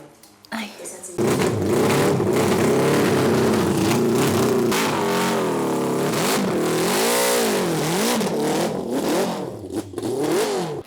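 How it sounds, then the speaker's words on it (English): A tuned CB750 motorbike engine revs hard and loud close by, its pitch surging and falling through repeated throttle blips over a sustained roar. "If you want to go deaf, just stand behind the CB750 that has been tweaked by the gas boys."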